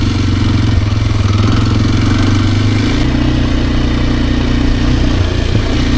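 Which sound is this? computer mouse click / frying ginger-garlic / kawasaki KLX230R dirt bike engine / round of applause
kawasaki KLX230R dirt bike engine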